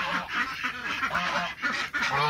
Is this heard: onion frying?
no